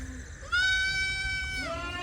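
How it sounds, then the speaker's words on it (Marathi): A single young Beetal goat kid, about two weeks to a month old, bleats loudly and close, one drawn-out wavering cry after a shorter call, over quiet background. "ही आहेत शेळ्यांचे बिटल बोकडाची पिल्लं"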